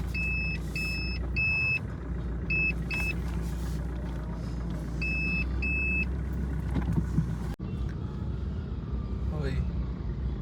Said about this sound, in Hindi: traffic traffic traffic